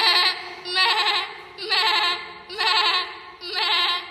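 A child imitates a goat, giving five drawn-out nasal bleats in a steady rhythm with short pauses between them, close and loud.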